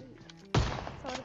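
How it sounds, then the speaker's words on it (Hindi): A shotgun fires in the mobile battle royale game PUBG Mobile, one sudden loud blast cutting in after a quiet start and then rumbling away. "अब इस वाले बंदे को मैंने 2 शॉटगन मार दी लेकिन उसके बावजूद ये नॉक नहीं हुआ।"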